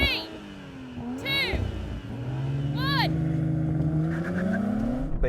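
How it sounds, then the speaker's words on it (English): A BMW M340i and an Audi RS4 launch together from a standing start in a drag race, their engines droning and rising steadily in pitch as they accelerate, loud and close, with brief high vocal-like cries over the top. "Beat him off the line. Look at the launch on that."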